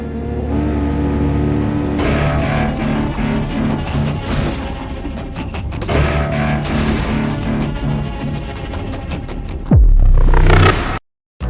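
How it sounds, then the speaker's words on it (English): Loud demolition derby car engines in the BeamNG video game revving and droning together, with repeated throttle surges and a sharp rising rev near the end before a sudden cutoff. "With multiplayer, we'll even get to compete in demolition derbies, and finally crowning the last vehicle and player standing the king of Drive X car crash simulator."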